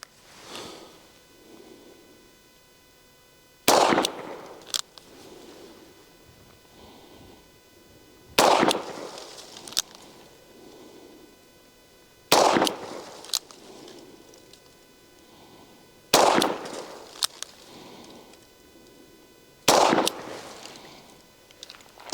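Five loud, sharp shots from a Smith and Wesson 360 PD .357 Magnum revolver fired single action, spaced a few seconds apart, each a sudden crack with a short ringing decay, between them faint low rustling and handling noise.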